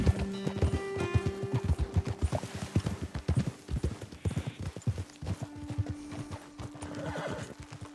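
Horse hooves clip-clop in a steady rhythm in the video game Red Dead Redemption 2, close and clear, with a neigh or whinny mixed in.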